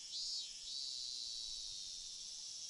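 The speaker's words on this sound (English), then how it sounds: "as I lay here listening to the voices of the cicadas" Cicadas from the visual novel Higurashi drone in a continuous high buzzing chorus, steady and moderately loud, with a slight swell at the start and no voices.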